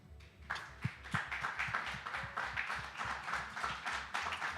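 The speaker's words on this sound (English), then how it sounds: "I would love us to just rise and give her a round of applause." Audience applause at the Miss Face of Humanity 2023 press conference, a quiet, moderately distant round of clapping with a few sharper individual claps, steady for several seconds.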